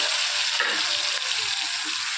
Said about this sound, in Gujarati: 3-4 પરી જેવું તેલ નાખ્યું છે અને અંદર ટામેટાં, લસણ, ડુંગળી અને મરચાં